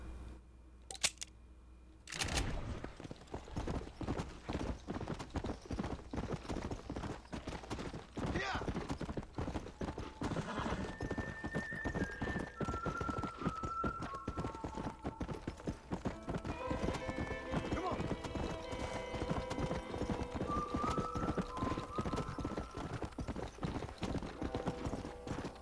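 Horse hooves clip-clop steadily in a video game as the horse is ridden, with rapid even hoofbeats running throughout, while someone talks and music or other game sounds play underneath.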